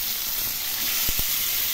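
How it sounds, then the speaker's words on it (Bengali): Prawns and pointed gourd fry in a pan for a Bengali curry, producing a steady, close hiss of oil throughout, with a couple of brief low thumps near the end. "চিংড়ি মাছ ও পটল খুব ভালো করে ভেজে নেব।"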